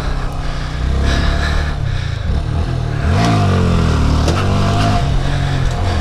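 A Honda Grom motorcycle revs loudly up close, its engine pitch climbing and dropping through several throttle surges as the rider pulls wheelies down a muddy street.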